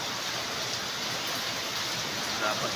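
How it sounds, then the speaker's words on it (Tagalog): Heavy rain from an approaching storm sweeps toward rice fields under a dark sky, a steady dense hiss of falling water that holds evenly throughout. "Ibig sabihin malakas na ulan yan."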